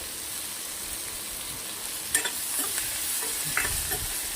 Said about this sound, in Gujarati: થોડી કચાશ દૂર થઈ જાય ત્યાર સુધી શેકવાની છે. આને કાચી ડુંગળી હોય તો પેટમાં દુખી શકે